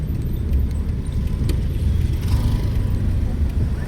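A car engine runs steadily at low revs as a learner driver on the first day behind the wheel lets the clutch out, a continuous low rumble close by with faint clinks on top.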